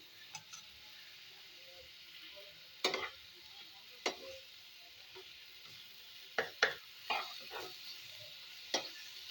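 Cashew paste being sautéed in a pan over a low flame, quiet with scattered sharp spoon scrapes and taps at irregular intervals over a faint background, close by, no talking.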